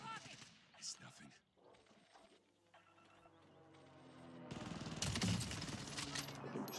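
Gunfire crackles in a Call of Duty Warzone match, scattered shots at first, then building into a dense burst of rapid fire, with speech heard along the way.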